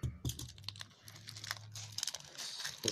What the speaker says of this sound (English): Listen to those crinkly sounds.